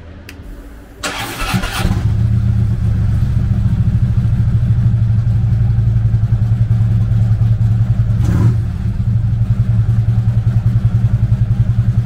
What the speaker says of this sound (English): Powered by a 103 cubic inch V-twin motor, the Electric Glide puts 105 foot-pounds of low-end torque through a 6-speed transmission.